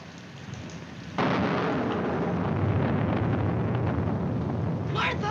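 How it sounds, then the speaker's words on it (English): Thunderstorm rain comes in with a sudden swell after a quieter start, then continues as a loud, steady downpour with low thundery rumble, and a brief high sound rises near the end. "I'm afraid of the thunder and lightning."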